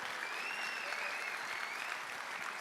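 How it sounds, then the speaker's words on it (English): Audience applause fills the hall at a flight simulation expo, a dense, steady clapping from a large crowd that holds at an even level throughout. "let's give them a big round of applause right now for putting this on for us"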